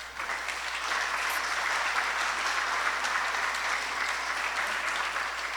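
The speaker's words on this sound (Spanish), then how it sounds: "un aplauso para él" A room full of people at a restorative justice tribunal session applauds a guest, a dense, even clapping that holds steady throughout without anyone talking.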